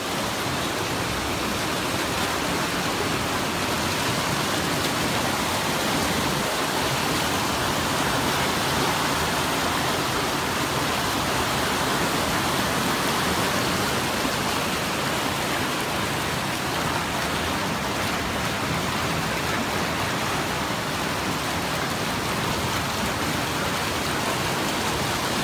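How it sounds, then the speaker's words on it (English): Water runs steadily from a tap or spring stream as hands are washed clean of dirt, a continuous broadband rush heard up close with no talking. "Just stopped by to wash my hands."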